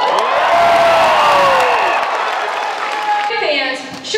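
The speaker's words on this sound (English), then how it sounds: "I expect to hear lots and lots of cheers and lots of clapping" A packed convention-room audience at MegaCon Orlando cheers, whoops and claps loudly, a dense continuous roar that holds strong before thinning toward the end.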